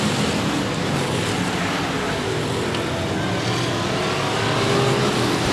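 Race cars roar around the oval at Heart O Texas Speedway in a steady, loud, broadband engine wash with no distinct pass-bys, continuous throughout.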